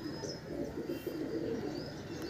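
A Madras pigeon coos softly and steadily in a loft, its low throaty calls continuous and close, with faint chirps behind.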